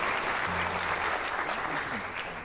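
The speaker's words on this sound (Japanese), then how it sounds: "拍手ありがとうございます" Audience applause at the Tsukaguchi Jazz concert for a Konan high and junior high school brass ensemble, a dense, even wash of clapping from a large crowd, loud and sustained, with faint talk underneath.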